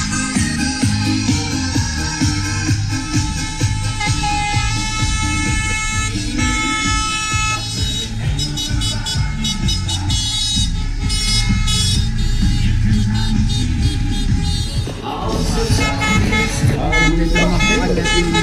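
A vehicle horn toots repeatedly on an advertising caravan opening the village festival of Kollumersweach and Feankleaster, blaring over loud music and people talking nearby.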